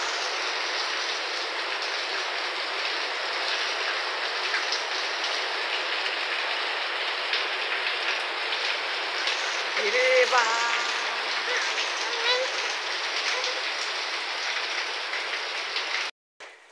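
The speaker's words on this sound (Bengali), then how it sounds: "আমার বাড়ির আঙ্গিনাতে দেখেন কি পরিমাণে বৃষ্টি পড়তেছে, খুবই প্রচুর তাকে বৃষ্টি আসছে।" Heavy rain pours steadily onto a home courtyard, a dense, continuous hiss close by that holds at an even level throughout, with a brief faint voice partway through and an abrupt cutoff near the end.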